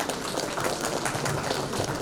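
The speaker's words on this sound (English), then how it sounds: "a huge round of applause for Mr." Steady clapping from an audience at an architecture and interiors design debate event in Bhopal, a dense continuous patter filling the room without voices on top.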